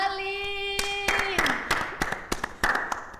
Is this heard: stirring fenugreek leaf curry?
no